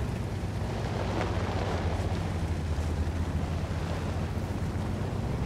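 Artillery shells in the tank game World of Tanks land as a deep, rumbling explosion texture with a sustained low boom and faint debris hiss, fairly quiet and continuous.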